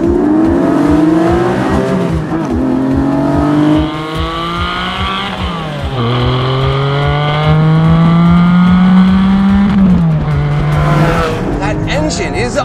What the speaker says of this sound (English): That engine is unbelievable. It just revs and revs and revs and revs.